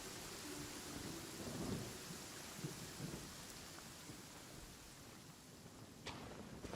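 Steady rain pours with rumbling thunder in the Genshin Impact video game, a continuous hiss under a few low rolls and one sharp crack near the end.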